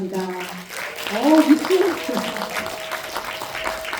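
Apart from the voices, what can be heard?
audience applause welcoming a presenter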